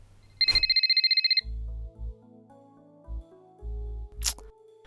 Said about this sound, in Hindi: मम्मी, आपका फोन कितनी देर से बज रहा है